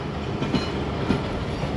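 Passenger train departing Sihala railway station on the Rehman Baba Express between Rawalpindi and Lalamusa, with a steady rumble and a couple of sharp rhythmic clickety-clack wheel knocks, close and alone with no talk.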